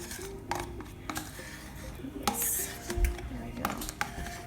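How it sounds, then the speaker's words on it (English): A spoon stirs sour cream into roasted cauliflower soup in a metal pot, giving close, irregular clinks and scrapes against the pot with soft kitchen background. "I'm just gonna dump this all in here, stir it up, and then I'm gonna let the whole thing cook."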